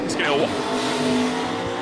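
A Fox body Mustang at a street drag event pulls away down the strip. A loud, steady engine drone holds throughout, with a brief rising tire squeal near the start and crowd or announcer sound mixed in.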